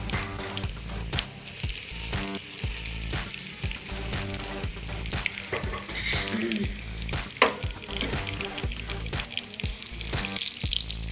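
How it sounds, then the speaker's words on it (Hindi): Chicken cutlets coated in egg and breadcrumbs fry in oil, with a constant crackling sizzle, intermittent knocks and clatter of the pan or utensils, and no speech over it. "अब हम इनको फ्राई कर लेते हैं।"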